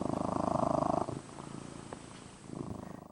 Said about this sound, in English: a kitten purring